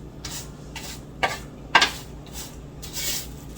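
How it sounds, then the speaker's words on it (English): Pecans are stirred around in a metal pan while toasting, with soft repeated scraping passes and two brighter clinks of the utensil against the pan, close and fairly quiet. "And I'm going to do the same with the pecans, just stir them around a little bit"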